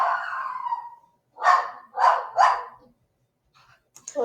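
A dog gives a short run of barks indoors: three close, sharp barks after a brief quiet, fairly near and moderately loud, following someone talking, with a faint yip at the very end.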